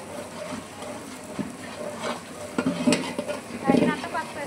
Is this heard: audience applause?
no